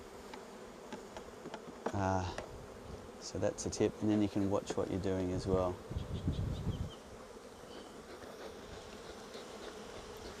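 Honey bees buzzing in an opened hive while two hives are merged, a steady low drone under someone speaking close by.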